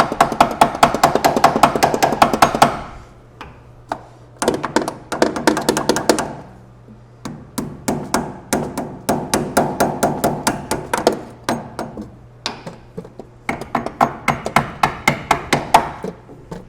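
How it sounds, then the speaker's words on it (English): A brass hammer raps on a metal part of a Toyota FJ40 power steering conversion in quick bursts of sharp, ringing taps, pausing briefly between rapid series, close and loud. "So we just get our brass hammer."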